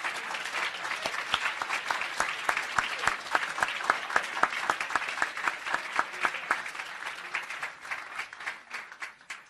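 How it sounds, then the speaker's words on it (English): A crowd at an awards ceremony applauds steadily with dense, continuous clapping that tapers off toward the end. "give yourself a round of applause"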